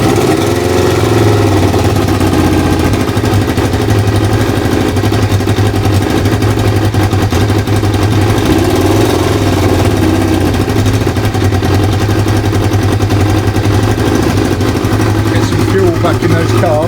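A Kawasaki ZL600 Eliminator motorcycle idles during a carburetor balance, its engine running loud, close and steady with an even low throb throughout, while someone talks over it.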